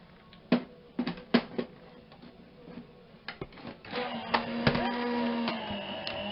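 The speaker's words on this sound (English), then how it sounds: "I'm going to put my metal plate in and run it through my machine. This will be noisy." A card-making die-cutting machine presses a metal plate through its rollers, giving a series of sharp clicks and clunks followed by a steady, louder grinding rumble near the end, close and alone.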